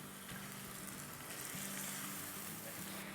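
Chicken sizzles in a hot pan with a steady, close frying hiss and crackle, accompanied by a low intermittent hum beneath it, with no talking.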